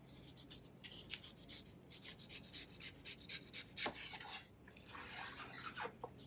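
A knife peeling the rind off a watermelon just below the white pith, producing faint, close rasping and scraping strokes in an uneven series, quiet and without talk.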